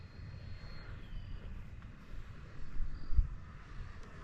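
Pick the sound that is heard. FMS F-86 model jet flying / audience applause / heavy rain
FMS F-86 model jet flying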